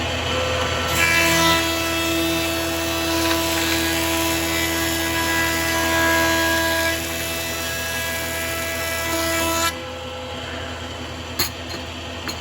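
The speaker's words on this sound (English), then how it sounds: "Now time to run them through the planer." Thickness planer running glued-up scrap wood boards through, a loud steady whining motor drone with cutting noise for about ten seconds before the machine note drops away near the end.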